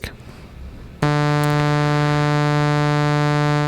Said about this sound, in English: a sawtooth wave sounds like this